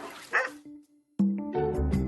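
Feral stray puppies, never handled by people, yelp and whimper in short bursts, with a high cry followed by a longer sustained whine and a cluster of close, loud barking yips.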